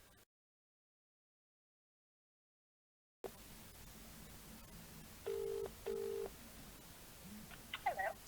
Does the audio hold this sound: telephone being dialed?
yes